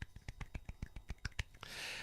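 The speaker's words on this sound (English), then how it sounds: "I'm just slapping my leg." A hand slapping a leg in a quick, even series of about a dozen close, crisp smacks, followed by a soft hissy rustle as the slapping stops.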